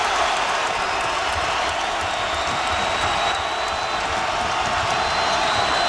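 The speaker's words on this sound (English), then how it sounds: "Boy, how about this crowd?" The arena crowd at a Kansas at Oklahoma college basketball game roars in a dense, continuous wall of cheering and shouting that stays loud and steady throughout.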